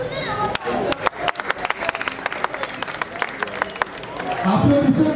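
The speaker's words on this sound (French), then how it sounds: "Applaudissez pour les judo" A crowd in a stadium applauds judoka on the tatami, dense clapping that rises and falls in bursts, followed near the end by a voice speaking over the crowd.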